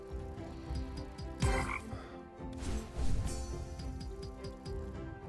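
A cartoon frog croaks in a Red Tiger slot video game: several deep, resonant croaks ring out clearly over a steady, tonal electronic game-music backdrop.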